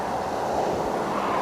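Ocean waves at Channel Islands Harbor wash in a steady broad hiss of surf mixed with wind buffeting the microphone, constant and moderately loud, without voices.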